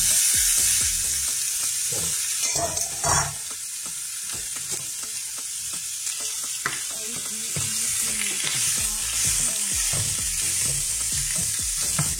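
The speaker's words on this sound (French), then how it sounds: "dans une poêle bien chaude. Et on va mettre le steak à cuire." Steak frying in coconut oil in a very hot pan, a loud, steady sizzle and crackle running throughout with scraping clatter of a utensil against the pan.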